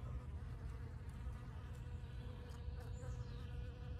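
Black honeybees swarm around the entrance of a hive on a winter inspection, their dense, steady buzzing continuous and close, with individual insects droning past now and then.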